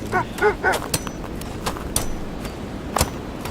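Sled dogs in Kona II Brume give a few short barks and yips close by in the opening second, followed by quieter scattered sounds over a dull background.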